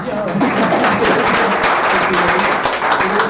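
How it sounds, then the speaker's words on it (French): Applause from the audience at a Pitch Me Up startup pitch night at Village By CA, with fairly loud, steady clapping and voices mixed in throughout. "On peut applaudir bien fort Maxime aussi"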